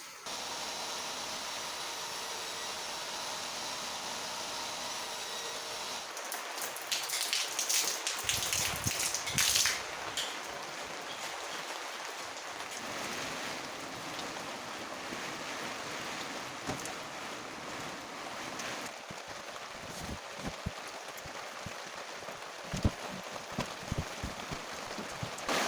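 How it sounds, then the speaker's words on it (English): Heavy rain falls outside a camper van, drumming as a dense, steady wash of noise with occasional louder spatters and gusts, continuous and close for the whole stretch. "Starting to get too much water in here. Yeah. Too much rain."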